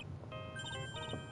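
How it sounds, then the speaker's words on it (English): A synthesized phone ringtone in Ace Attorney Trials & Tribulations plays short repeated melodic beeps in quick pairs over a steady background hum, with no voices. "Nick, your phone's ringing."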